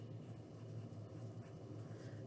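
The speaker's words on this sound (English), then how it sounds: "I want to add some notes to this page." Pen scratching notes onto paper near the page, a soft continuous scribbling texture over a low steady hum.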